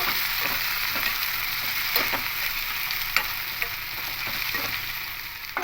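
Snake gourd, salted and watery, stirred and mixed in hot oil in a pan for a vegetarian coconut dish, giving a steady close sizzle with scattered scraping clicks of the spatula throughout.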